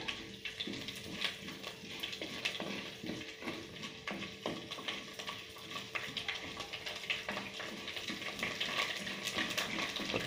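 Rice roasting and crackling in a hot pan for jackfruit thoran, a steady dense sizzle with scattered pops and occasional stirring scrapes, continuous and close throughout.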